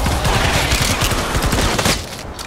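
Rapid assault rifle fire in the Fortnite zombie multiplayer mode, a dense run of sharp repeated shots for about two seconds, loud and close, then cutting off into quieter game ambience.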